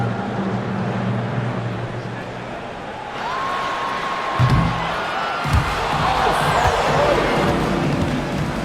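In an NBA 2K26 basketball game, a half-court shot attempt plays out over a steady arena crowd roar, with a couple of dull ball thuds and rising cheers toward the end.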